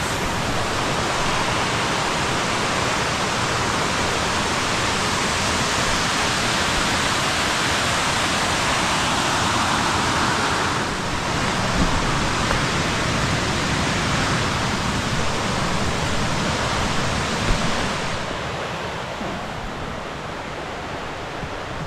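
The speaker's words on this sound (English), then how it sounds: "So that's Chastain Creek Cascades." Chastain Creek Cascades rush in a continuous, loud, broadband roar of falling water that stays steady and unbroken throughout, heard up close with no voices.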